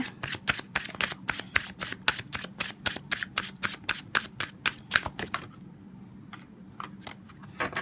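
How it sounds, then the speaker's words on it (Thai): Tarot oracle cards being shuffled by hand, a fast run of crisp riffling snaps for about five seconds, then a brief pause before a few scattered flicks. The sound is close and clear, with no talking. "เดี๋ยวขอสับเพิ่มอีกนิดนึงเมื่อกี้ไพ่มันกระเด็น"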